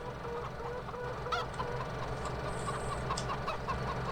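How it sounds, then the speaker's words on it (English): Chickens in the farm game Farming Simulator 17 cluck and squawk continuously over a low steady background hum, with several birds overlapping at moderate volume. "stop by and say good morning to the chickens"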